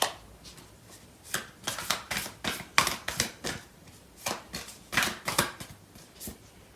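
Tarot cards shuffled by hand in repeated crisp riffling bursts, close and clear, about a dozen quick flurries with short pauses between, no talking.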